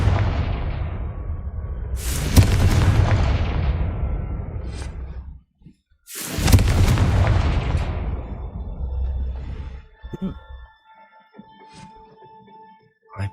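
A Confringo fire spell explodes in the Hogwarts Legacy video game, with two loud booming blasts a few seconds apart, each roaring with low rumble before fading. Smaller crackles and magical chimes follow.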